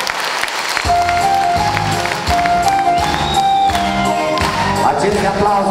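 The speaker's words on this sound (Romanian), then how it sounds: "Aceste aplauze sunt pentru voi, pentru mamele noastre, pentru părinții noștri care ne așteaptă" Steady audience applause fills a live concert hall, dense and loud throughout, with sustained musical tones ringing underneath.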